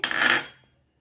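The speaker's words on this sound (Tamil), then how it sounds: "மிக்ஸி ஜாரில் பாதாமை உளிச்சு போடுதேன்." Peeled almonds dropped into a kitchen mixer jar make a short, close rattling clatter that lasts about half a second and then stops, with no other sound.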